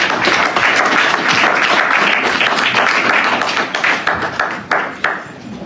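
Audience applause at the second JED conference, sustained dense clapping from a crowd that carries steadily for several seconds and then thins out toward the end.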